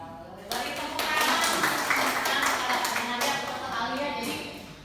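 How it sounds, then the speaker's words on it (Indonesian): Scattered hand clapping from a school gathering, fairly faint and mixed with murmuring voices and a speaker talking over it, lasting several seconds. "Beri tepuk tangan."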